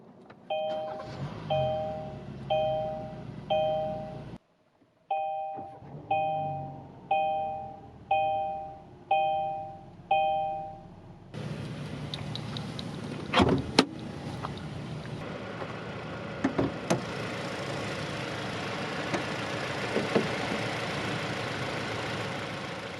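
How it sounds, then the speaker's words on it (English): A 2021 Kia Sorento with push-button start and a 2.5-liter four-cylinder: a repeating two-tone warning chime rings several times, then the engine cranks and catches with a few clunks and settles into a steady idle hum. "Let's press the button and start it up."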